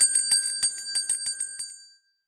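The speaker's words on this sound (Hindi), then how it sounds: "बॉलीवुड की घंटी।" A bright bell rings in a quick run of about nine strikes over two seconds, each one crisp and close, then the tone rings out and fades into silence.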